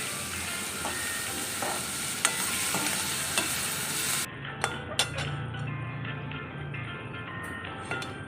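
Onion, capsicum, ginger and curry leaves sauté in hot oil for a capsicum egg omelette, a steady sizzle under repeated stirring with a few sharp clinks of a utensil against the pan.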